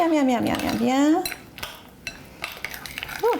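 A bowl of date and oat biscuit dough being stirred, soft scrapes and clinks of a spoon against the bowl that follow a stretch of speech, with a brief voice again near the end.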